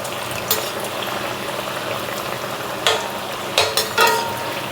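Samosas frying in very hot oil, a steady bubbling sizzle throughout with a few sharper spattering bursts near the end, close and without talk.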